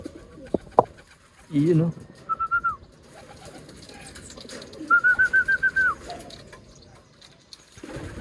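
Pigeons coo after their first ride in a truck, giving soft repeated throaty coos in short pulsing bursts, near and fairly loud, with someone talking briefly in between.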